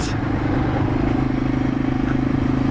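A retro-styled motorcycle with oversized tires idles nearby, its engine putting out a steady, loud, low rumble that holds even for the whole stretch.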